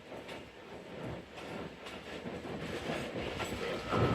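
Sialkot Express train running on the Narowal–Sialkot section, a steady low rumble with rhythmic wheel clatter building slightly louder toward the end, heard from on board with no voices.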